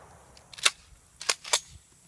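Gunshots tied to video game gun myths, three sharp snappy cracks with the last two coming close together, loud and nearby over a quiet background.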